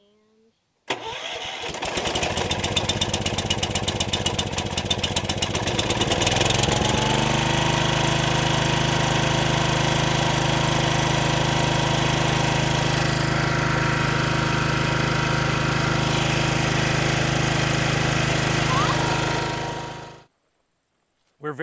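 A tractor engine, just repaired with a replaced hose, cranks and catches, then runs loud and steady at a close, even idle for over ten seconds before shutting off, with a brief word spoken.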